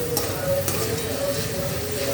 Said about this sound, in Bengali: নাড়তে নাড়তে আস্তে আস্তে লাল হয়ে যাচ্ছে আর আলুটা করকরে হয়ে যাচ্ছে। আওয়াজটা শুনছো?